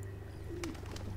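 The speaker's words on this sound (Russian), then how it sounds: "Голубь, голубь." A pigeon in the video game Observer gives a soft, brief coo over a steady low background hum, faint and set a little away.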